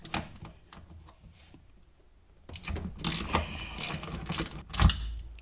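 A tool unscrews a tight shifter bushing on a Honda Beat, giving close metallic clicks and ratcheting scrapes that grow louder and busier after a quiet start, with a sharp knock near the end.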